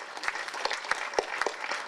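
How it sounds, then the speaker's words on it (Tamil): An audience at a Tamil movie audio launch claps, fairly faint scattered applause with a few sharp individual claps standing out from the steady patter. "ஒரு வாட்டி கைத்தட்டுங்களேன்"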